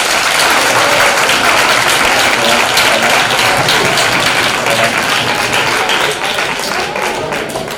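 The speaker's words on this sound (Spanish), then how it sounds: "Un fuerte aplauso." Loud, sustained applause from a television studio audience at a singing impersonation contest, a thick wash of clapping that eases slightly toward the end.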